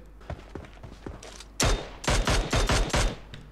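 Gunfire in the mobile battle-royale game PUBG Mobile: a few faint pops, then a loud close burst of rapid shots in quick succession, with a little talk underneath.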